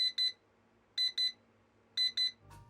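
A portable digital LED timer beeps in three evenly spaced double bursts of sharp electronic tones, close and loud over a quiet background, followed by a brief handling clatter.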